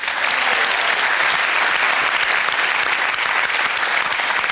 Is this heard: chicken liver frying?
no